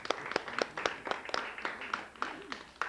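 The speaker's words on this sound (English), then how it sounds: "I think that deserves a round of applause" A round of applause at an awards ceremony, with dense rapid clapping from an audience, fairly quiet and steady throughout without talking over it.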